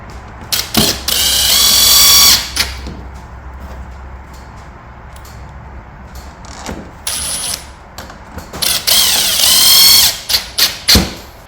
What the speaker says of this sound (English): Insert your screws and secure.